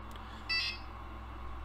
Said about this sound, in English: That beep tells you that the settings are stored